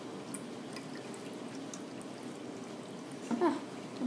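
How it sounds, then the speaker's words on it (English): Water mixture poured from a container, a soft continuous trickle with a brief louder splash near the end, fairly quiet and with no voices. "Alright, so let's pour this in."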